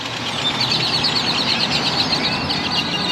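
A dense flock of birds chirps continuously outdoors, many overlapping high calls forming a steady, fairly loud chorus over low background rumble, with no one talking.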